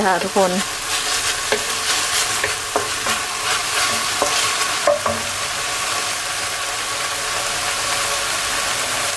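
Chili and garlic stir-fried in a pan for instant noodles, a loud continuous sizzle with repeated scraping stirs of the spatula, close and steady throughout.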